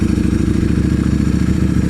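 A Ducati Streetfighter V4 with a Termignoni racing slip-on exhaust and dry clutch runs steadily nearby, a loud, even, throbbing engine note with a faint mechanical clatter and no talking.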